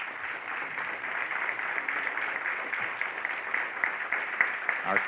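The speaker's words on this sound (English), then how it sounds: "Round of applause for our leaders." A county Black History Committee audience claps for its leaders in a dense, even wash of applause that holds steady at moderate loudness throughout, without a break.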